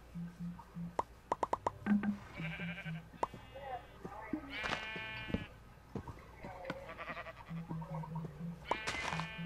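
Sheep bleat in Minecraft, short wavering calls repeating at intervals, mixed with tonal game sound effects and clicks, all fairly quiet.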